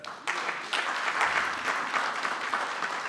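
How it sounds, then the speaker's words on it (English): An audience at a housing authority network summit breaks into sustained applause, a thick wash of clapping that continues throughout. "So everybody clap it up for that."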